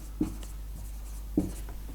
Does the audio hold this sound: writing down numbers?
yes